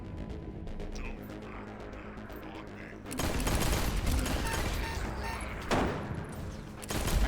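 Pistol gunfire in the video game Echo Point Nova, a rapid run of shots under continuous action noise, growing louder and denser after a few seconds with clustered bursts.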